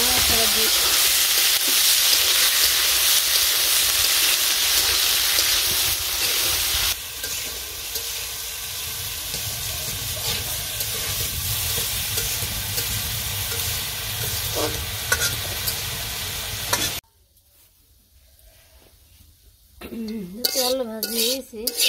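Potatoes with turmeric frying in a pan, giving a loud, steady sizzle under continuous stirring and the scrape of a utensil against metal. The sizzle cuts out abruptly near the end, followed briefly by a voice.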